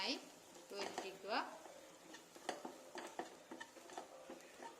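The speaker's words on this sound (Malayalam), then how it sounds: "നന്നായി യോജിപ്പിക്കുക." A spoon stirs chana chat masala with Kashmiri chili and coriander powder in a pan, making repeated close scraping and clinking strokes over a faint background hiss.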